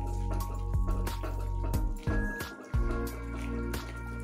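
Water goes into semolina halwa cooking in a pan, giving wet, bubbling squelches and sputtering sizzles in a choppy, irregular rhythm, close and fairly loud, with no talking.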